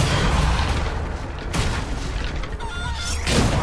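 Bombarda blasting spell explosions in Hogwarts Legacy, a dense, loud barrage of booming blasts and crackling debris. Bursts overlap with brief bright spell whistles in a continuous rumbling din.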